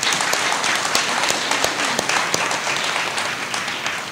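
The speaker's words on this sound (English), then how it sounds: "Let's give a round of applause for all of our current soldiers." An event audience claps for current soldiers, a dense sustained burst of applause that stays loud before tapering slightly near the end.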